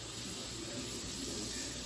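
Tap water runs steadily into a sink while a raw hair closure is washed, producing a soft, even hiss throughout at low volume.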